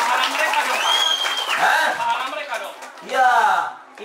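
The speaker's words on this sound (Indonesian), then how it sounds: "Tepuk tangan buat Pak Puji." Audience clapping for a teacher at a school English and character camp, fairly close and mixed with a speaker's voice and some crowd chatter, swelling briefly near the end.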